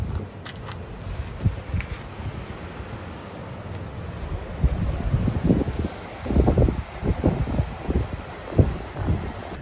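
Gusty wind in Cyprus buffets the microphone in heavy low rumbles behind a camper van, surging and dropping in bursts, with no voices present.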